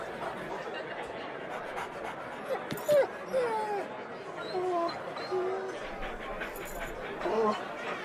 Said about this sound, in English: That dog is fierce.